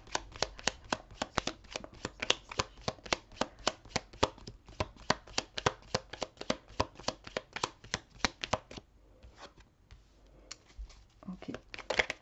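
Tarot cards are shuffled in a long, fast run of crisp riffling flicks. After a brief pause the shuffling resumes, close and clear, with only faint voice traces.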